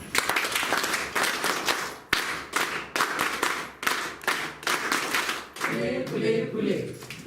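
An audience claps at a district-level trainers' training held by the Zilla Parishad health department in Ahmednagar, in repeated loud bursts of applause separated by short gaps, with voices mixed in.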